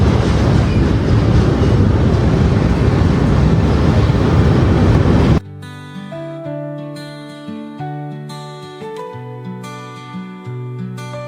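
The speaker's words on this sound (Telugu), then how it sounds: "ట్రైన్ ఆపిండే, ఇప్పుడు మళ్ళీ మూవ్ అవుతుంది ట్రైన్" Train wheels rumbling and clattering loudly as a train starts moving again, a dense continuous roar for about five seconds before cutting off.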